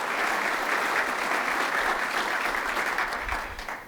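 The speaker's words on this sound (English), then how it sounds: "I'd like to have a round of applause for them for their support." Audience applause fills the room after a speaker's call to recognise supporters at an Ohio gathering, a steady dense clapping that holds throughout and tapers slightly at the end.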